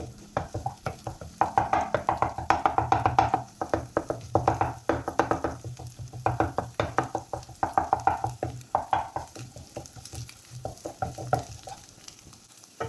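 Vermicelli (semiya) frying in a pan as it is stirred steadily, a close, continuous sizzle broken by repeated rhythmic scraping strokes, with no voices.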